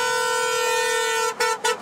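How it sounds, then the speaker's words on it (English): Car horn sounding in one long steady blare, then two short toots, loud and close from passing traffic at a Stop Asian Hate rally, with no talk. "cars honked in support of the message as they drove by"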